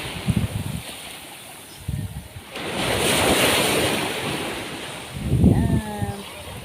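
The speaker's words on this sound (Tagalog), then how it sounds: "Ganyan, naririnig yung hampas ng tubig." Sea waves wash onto the shore at Villa Veronica Beach in Allen, Northern Samar, a swelling surge rising and falling amid gusty wind noise on the microphone, with a faint voice toward the end.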